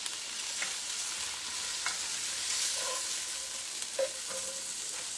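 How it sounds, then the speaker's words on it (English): Meat browning for gumbo in a pot, with a constant bright sizzle and a few scraping strokes of a spoon stirring through it, close and steady with no voices. "Give that a little stir."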